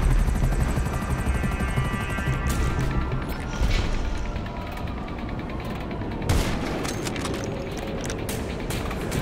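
A helicopter in the GTA video game drones with fast rhythmic rotor chop and mechanical whine, loud and continuous across the whole stretch, with no talk over it.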